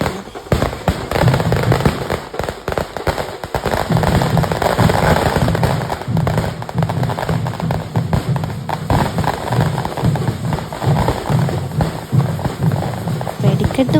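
Fireworks burst in rapid, loud succession at a Kerala temple festival, the Elanjikkal Kumbha Bharani celebration, while a brass band plays a steady rhythm underneath, with crowd noise throughout.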